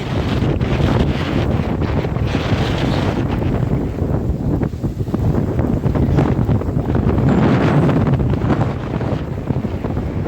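Strong, gusty Kalbaishakhi storm wind roars steadily across the microphone in the Sundarbans, with a low rumble of water and a fishing boat underneath, loud throughout and no talking.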